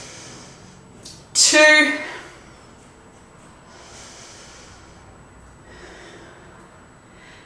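During a deep quad stretch in a vinyasa yoga flow, one loud, forceful nasal breath rushes out close to the ear, then fades into quiet breathing, with a voice briefly counting beforehand.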